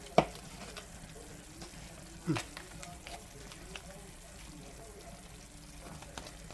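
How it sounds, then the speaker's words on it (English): Crumbled Boursin cheese stirred in a hot frying pan, giving a soft steady sizzle with a couple of brief scraping knocks near the start. "I'm going to go ahead and put that in the pan."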